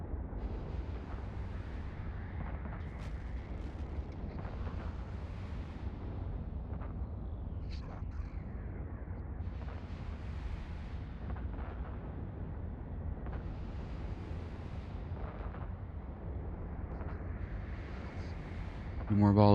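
Spaceship weapon volleys in the space game Eve Online fire in repeated booming bursts, deep rumbling blasts every few seconds over a constant low drone, with someone talking at times.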